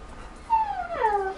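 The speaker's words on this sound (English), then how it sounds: "My dogs are being stubborn, they want in the room." Pet dogs outside a closed room whimper in two short, high, wavering cries that rise and slide downward, close by and clear over a quiet background.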